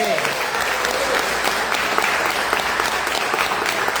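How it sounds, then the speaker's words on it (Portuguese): A church congregation claps for Jesus during a worship service: steady, dense applause from many hands, fairly close and even throughout, with no talking. "Você pode dar aplauso a Jesus?"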